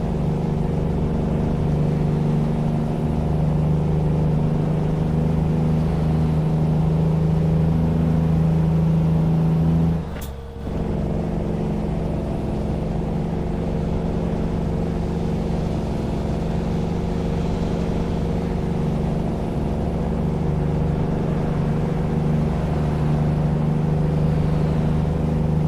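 Kenworth T2000 truck engine in American Truck Simulator drones in a steady, loud low-pitched hum for about 26 seconds, with a brief dip and a click near the middle before the same tone resumes.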